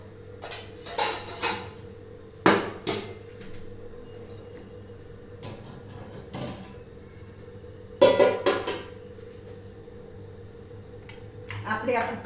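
Steel dishes and a pressure cooker being handled while milk muthiya are placed inside to steam, with sharp metallic clanks and knocks in scattered bursts over a low steady hum.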